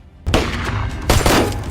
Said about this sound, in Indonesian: Tak lama rombongan penyerang datang dan melepaskan tembakan.